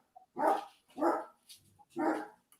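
A dog in a studio barks three times in quick succession, each bark loud and fairly close, with short gaps between them.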